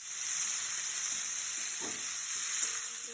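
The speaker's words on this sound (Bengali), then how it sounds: "এখানে কড়াইয়ে তেল দিয়ে দিয়েছি, পেঁয়াজ দিয়ে দিলাম।" Onion sizzles in hot oil in a wok, a steady close hiss and crackle of frying with a faint stirring scrape partway through.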